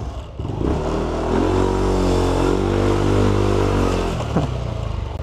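Yamaha Aerox v1 scooter engine with replaced rollers revving up close, a loud rising and falling whine held for a few seconds before dropping off.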